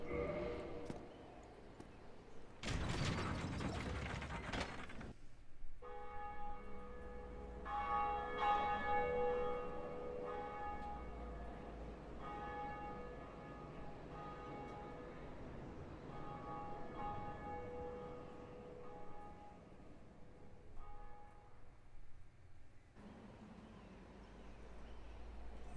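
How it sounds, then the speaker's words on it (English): A large bell rings in Dark Souls Remastered, a sustained resonant toll with long ringing overtones after a brief loud burst, lingering clearly for many seconds before fading. "See the bell? I can hear it right now."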